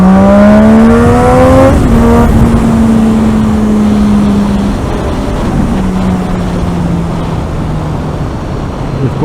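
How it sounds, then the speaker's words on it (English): A 2008 Triumph Daytona 675 motorcycle accelerates hard from second gear, its loud engine note climbing in pitch through a quick upshift before continuing to pull with strong wind noise. "It wouldn't be fair if I didn't give you guys a little pull on my new bike."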